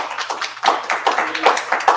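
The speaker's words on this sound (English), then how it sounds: "And yeah, you can clap for them." A small audience claps for political candidates, a handful of distinct, fairly close hand claps in an uneven rhythm, sparse rather than a full crowd roar.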